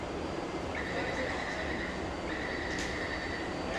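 A metro train waits at a Taipei station platform, a steady, fairly loud rumbling hum with two sustained high electronic tones, like a door chime or signal.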